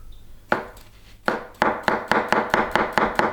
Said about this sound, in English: we wanna fine slice our celery